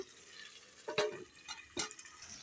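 Chicken curry stirred in a pan after the lid is lifted: a few soft scraping and bubbling strokes over quiet simmering, faint and close, with no voices.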